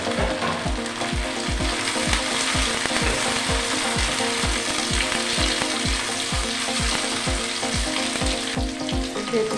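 Onion and tomato frying in a pan, a steady hiss and sizzle with a fast, regular mechanical clicking ticking underneath throughout, close and continuous.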